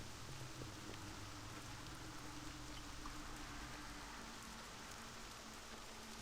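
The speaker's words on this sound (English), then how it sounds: "I don't think the rain's gonna stop anytime soon." Steady rain falls in World of Warcraft Legion, a dense, even hiss of droplets that holds at a constant level throughout with no talking.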